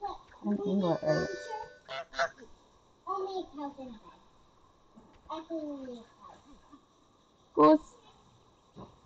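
Cartoon goose honks from Untitled Goose Game, several sharp nasal honks spaced out over a few seconds, close and fairly loud, with a person talking in between.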